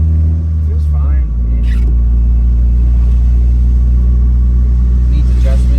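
A Mitsubishi Mirage on new tires drives and accelerates, its engine giving a loud, steady low rumble and drone heard up close from inside, with a voice talking over it.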